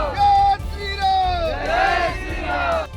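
A street crowd of protesters bellows slogans in unison, rising and falling in loud waves of raised voices and yells, with a general hubbub of babble underneath.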